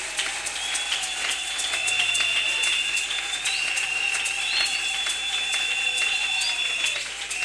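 A church congregation at a convention applauds loudly and continuously, dense massed clapping filling the room for several seconds alongside a sustained tonal background, with no speech.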